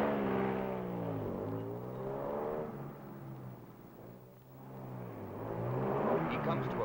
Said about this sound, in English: Jumps into his car and drives around a twisting course to the first target.